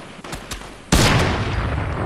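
Gunfire in Fortnite: a few faint distant pops, then a sudden loud burst of close shots with a lingering rumbling tail.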